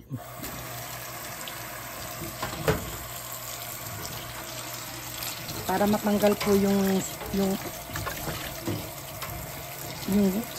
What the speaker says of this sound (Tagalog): I think I need to wash it again sa tubig.